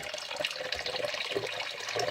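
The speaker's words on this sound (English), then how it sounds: "we're about to add the next 4 cups of water" Water poured into a homemade wine mixture of grape concentrate, a steady faint splashing stream running alone without pause.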